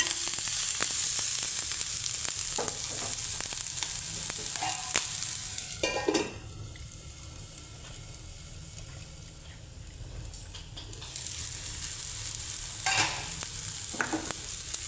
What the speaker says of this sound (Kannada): ಇದು ಎಣ್ಣೆಯಲ್ಲಿ ಚೆನ್ನಾಗಿ ಫ್ರೈ ಆಗಿದೆ.